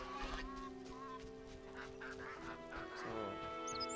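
Geese honking in The Witcher video game, several faint nasal honks scattered over a quiet village ambience, with soft game background sound.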